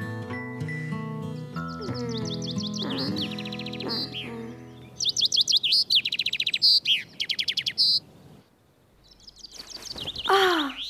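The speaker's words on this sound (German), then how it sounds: "Der kleine Vogel singt aber schön." A small cartoon bird sings in a children's animated show, bright chirps and trills over a short musical phrase, close and clear, with rapid repeated tweets in the middle and a final rising call.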